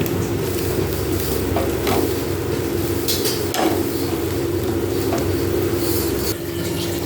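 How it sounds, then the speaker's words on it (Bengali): Cabbage paste (bandhakopi bata) stirred and fried in a pan, with a steady low sizzle running under intermittent scraping and clinking of a spoon against the pan, close and continuous. "এরপর নেড়ে নেড়ে আমি একটু ভেজে নেব।"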